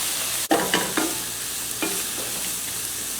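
Frozen vegetables snapping and sizzling in plenty of hot olive oil, with a steady broadband fry hiss and a few sharp pops and spatters in the first two seconds, close and alone.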